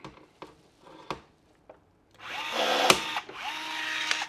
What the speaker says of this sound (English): And then I have a Milwaukee riveter. I do a lot of riveting.